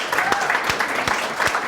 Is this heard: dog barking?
no